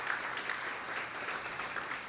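An audience at a college admissions night panel claps in sustained, even applause filling the room for the whole stretch.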